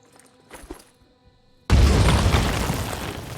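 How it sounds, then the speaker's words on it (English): A grenade explodes in the tactical strategy game Phoenix Point, a sudden loud broadband blast after quiet ambience, followed by a long roaring, crackling decay that fades slowly. "Or I can just go for easy mode and throw a grenade."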